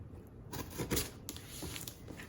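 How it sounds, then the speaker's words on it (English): Old fabric scissors slice open a cardboard subscription box with a few soft snipping and rustling strokes, quiet and close, with no voices. "I'm using my old fabric scissors for this, by the way."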